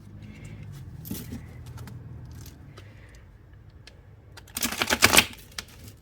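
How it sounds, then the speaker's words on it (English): A deck of tarot cards is handled with soft taps and light scrapes, then shuffled in one quick, crisp riffling burst lasting under a second, heard up close with no talking. "Smooth shuffle."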